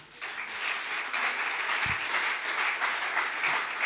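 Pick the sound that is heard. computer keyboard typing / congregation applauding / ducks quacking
congregation applauding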